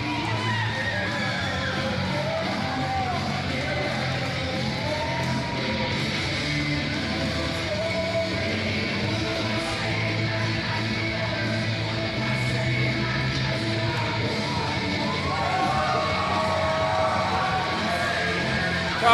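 Crowd at an IOM match between IIA and X Crew cheering and yelling in a sustained, dense roar, rising slightly toward the end, with a commentator speaking over it.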